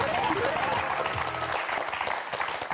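Studio audience of a French word game show breaks into steady applause, a dense wash of clapping with a brief musical tone sweeping through near the start.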